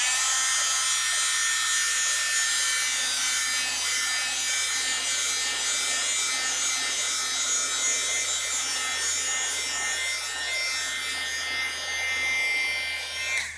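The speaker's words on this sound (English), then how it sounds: "So sorry, I'm going to have to turn on the dryer." A hair dryer blows steadily on a wet watercolor painting, a loud, continuous broadband whoosh with a faint motor whine running unbroken at close range, with no talking over it.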